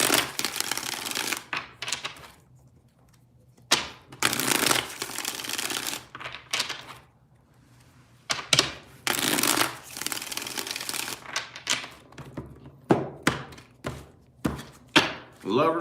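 A deck of tarot cards is shuffled by hand again and again, in quick riffling bursts with short quiet gaps between them, close and fairly loud.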